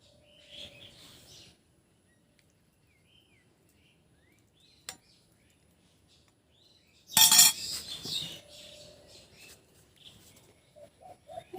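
A ladle scoops fish curry with ash gourd from a pot into a bowl, giving a brief burst of metallic clinking and scraping in a quiet rural setting, with scattered bird chirps before and after.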